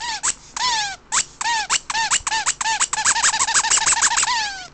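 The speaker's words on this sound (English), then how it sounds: "Yeah, it's a squeaking rat." A squeaky Halloween rat toy squeaks repeatedly and loudly up close, sharp whistling squeals coming faster and in quicker succession toward the end, with no talk.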